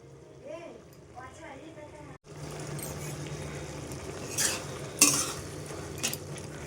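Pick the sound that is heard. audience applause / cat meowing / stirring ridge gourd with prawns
stirring ridge gourd with prawns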